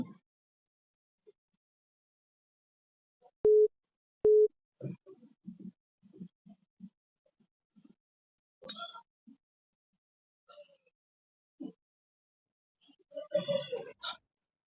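A phone busy tone after a call is cut off on an online coaching session, two short beeps, followed by scattered faint sounds and brief muffled voices.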